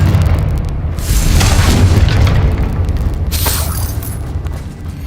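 In Hogwarts Legacy, a Confringo fire spell erupts into a loud, sustained booming explosion with dense crackling roar and a second burst midway. The noise fills the whole stretch without speech.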